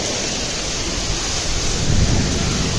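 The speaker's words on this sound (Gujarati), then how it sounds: "રાજકોટમાં ધોધમાર વરસાદ પવન સાથે ને કરા પડે છે" Heavy rain pouring down with strong wind and hailstones in Rajkot, a loud, dense, continuous roar that swells slightly near the end, with no voices.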